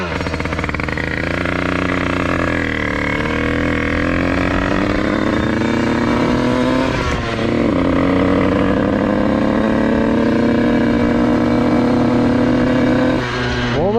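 A prepared 80cc motorcycle engine idles steadily while warming up, a loud continuous buzzing drone with slight pitch drifts and a brief rev change partway through.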